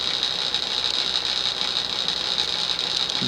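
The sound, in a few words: Emerson Sears plastic 40-inch ceiling fan motor running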